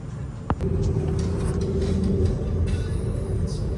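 Inside a moving metro train in Porto, Portugal, a steady low rumble fills the space, with a single sharp click near the start.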